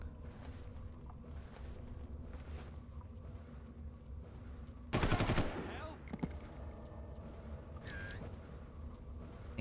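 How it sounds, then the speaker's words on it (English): Gunfire in the Far Cry video game, a sudden loud burst of rapid shots lasting under a second amid a steady background rumble, with faint talk around it. "It sounded weirdly like a gun."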